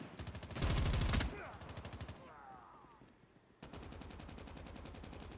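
Automatic gunfire in Call of Duty Mobile during a Team Deathmatch match: rapid, loud bursts of rattling shots, a brief heavy blast, a lull, then another sustained volley, with a voice speaking faintly underneath.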